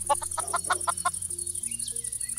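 Minecraft chickens cluck in a short series of clipped, evenly spaced calls over a steady game background hum, then fall quiet.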